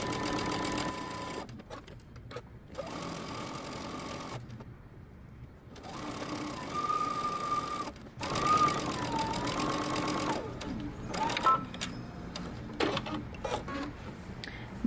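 Sewing machine stitching the back and around the bottom of a jumpsuit collar with a 3/8-inch seam allowance, running in several steady bursts separated by short pauses, close and clear.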